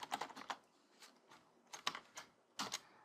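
Fingers type code on a computer keyboard for a Visual Basic 2010 game tutorial, in close, uneven bursts of keystrokes separated by short pauses, with no talking.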